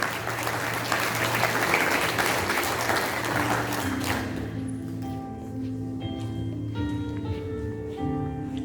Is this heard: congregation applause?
yes